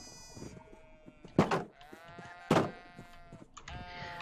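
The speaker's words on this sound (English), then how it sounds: "Look at the tiny baby sheep!" A tiny baby sheep in a farming video game bleats repeatedly, a few wavering high cries with two louder, sharper bursts between them, close and clear with no talk over it.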